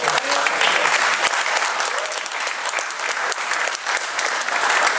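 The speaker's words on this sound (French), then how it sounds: "Je crois qu'on peut applaudir." An audience claps at a French talk event, dense sustained applause from many hands, loud and close, lasting the whole stretch without letting up.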